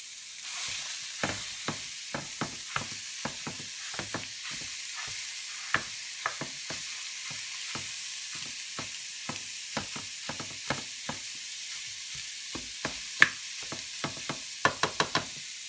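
Ground beef cooks in a hot pan with a soft, steady sizzle while a utensil scrapes and taps the pan in sharp, irregular clicks, quiet and close, no voices.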